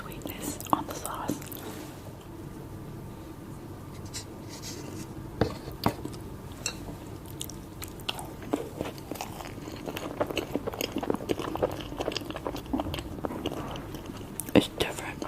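Sweets being chewed and bitten close up, including a grape cake with a salty-sweet sauce, heard as continuous wet chewing with scattered crunchy bites and faint whispered talk.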